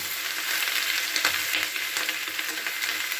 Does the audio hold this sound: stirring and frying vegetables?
yes